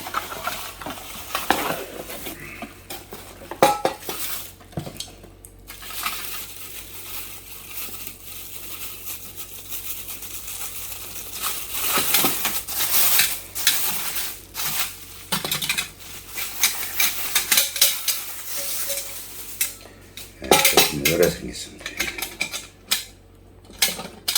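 Metal camping cookware pots are handled while being unboxed, giving close, irregular clinks, knocks and scraping rattles, with some crinkling, and no talking.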